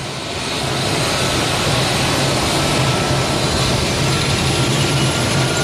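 An airplane's engines run up to full power nearby, a loud steady roar with broadband hiss that swells in the first second and then holds constant without voices.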